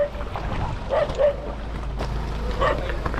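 Dogs on a hiking trail in the Philippines bark and yip a few times at close range, with brief whimpers between, over steady outdoor background noise.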